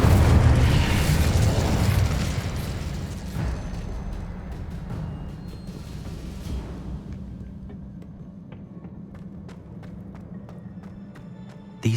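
The Incendio fire spell goes off in Hogwarts Legacy as a loud, rumbling blast at the start, then a long roaring burn that slowly dies away. Scattered small pops and crackles follow, with a sharp click at the very end.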